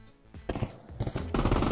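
Gunfire in CS:GO played in VR, a burst of rapid loud shots building into sustained close-range firing with no voices over it.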